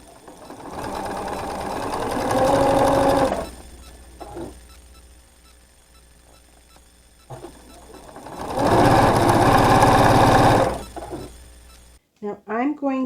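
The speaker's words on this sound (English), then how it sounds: "while we're at the sewing machine, I'm going to take my two dark greens and my two berry colors" Sewing machine stitching along the diagonals of paired dark green and berry quilt block fabrics, two separate close bursts of a few seconds each with quiet gaps and handling noises between.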